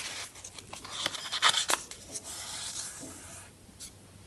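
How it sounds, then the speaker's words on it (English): Paper being folded over for a craft bird's beak, soft crinkling and rubbing strokes heard close and quiet, with a few sharper creases in the middle. "I like to fold it over."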